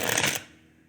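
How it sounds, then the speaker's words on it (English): Deck of tarot cards being shuffled, a brief close riffling flutter that stops abruptly and leaves near silence. "Let's shuffle this other one too."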